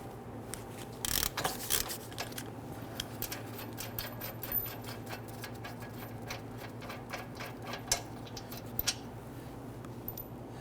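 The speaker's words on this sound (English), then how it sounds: "we have 2 22mm bolts holding our caliper and caliper bracket. We're going to start by loosening and removing the lower one first" Ratchet loosening a 22mm caliper bracket bolt on the front brake of a 2008-2013 Infiniti G37, a run of rapid light clicks over a low steady hum, close and quiet, with a couple of sharper knocks.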